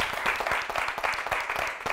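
Studio audience applauding a contestant on a Catalan TV spelling quiz show, a dense, steady burst of many hands clapping close by, with no voices over it.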